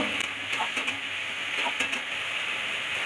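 Ginger, onion, garlic, tomato and chilli paste frying in a pan for a vegetarian masoor dal muitha, a steady close sizzle with a few faint scraping stirs and no talking.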